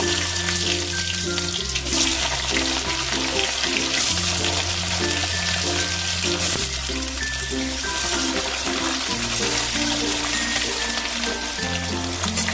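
Diced medium potatoes frying in hot oil in a pan while cooking a Bengali banana-flower curry, a steady hissing sizzle running continuously and fairly loud throughout.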